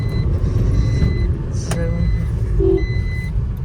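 A car rolling slowly into a village fair ground, its engine a low steady rumble close by, with faint electronic beeps and people talking in the background.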